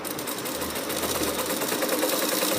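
A sewing machine runs long stitches along the side slit of a kameez, a fast, steady, close mechanical whirring and clatter that continues without pause.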